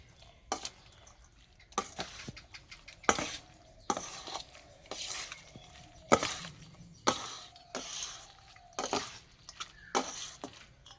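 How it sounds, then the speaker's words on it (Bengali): Hot flattened rice being mixed with jaggery using a metal spatula, heard as a sequence of regular, sharp scraping and clinking strokes about once a second against a pan, close-up and fairly quiet between strokes. "গরম আছে সেই জন্য খুন্তি করে মিশিয়ে নেব।"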